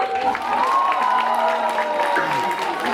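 An audience at a Ukrainian spring concert applauds steadily throughout, a continuous wash of clapping with some crowd voices and faint cheering mixed in.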